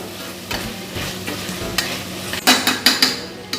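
Spoon scraping and stirring soya chunks with biryani masala in a hot pan, a steady low sizzle under a few soft strokes that give way to sharper, louder clatters near the end.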